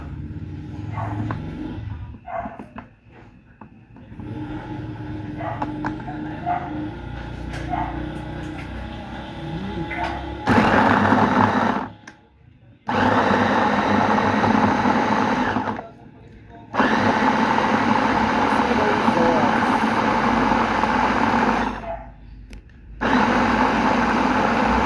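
Fruits and water whir in a blender, running loud and close in several long pulses with brief pauses between, after quieter handling clatter and a little talking at the start.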